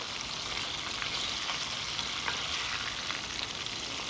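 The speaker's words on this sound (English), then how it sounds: "One thing about frying fish, guys, you got to make sure you don't overcook it." Steady crackling sizzle of small pieces of fish, some breaded, frying in hot oil, with occasional sharper pops, continuous and fairly quiet throughout.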